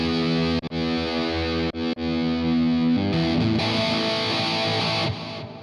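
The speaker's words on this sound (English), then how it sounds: "A lot more reverb, right?" Sustained distorted electric guitar chord washed in heavy reverb from a TANK-G multi-effects pedal, a couple of brief cuts, then a swelling shimmering tail that fades out.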